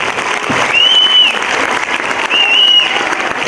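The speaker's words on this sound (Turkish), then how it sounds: "Onlar için de bir alkış istiyorum." A crowd at a community association evening event for children and families claps in warm, sustained applause, close and loud, with faint whistles rising above the clapping.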